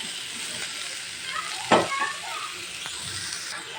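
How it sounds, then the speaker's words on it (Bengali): Bottle gourd, with lentils added, is stirred and fried in a pan, a steady sizzle running throughout with one louder scrape of the spoon midway and a few softer stirring sounds after. "লাউটাকে একটু হালকা একটু নেড়ে নিচ্ছি।"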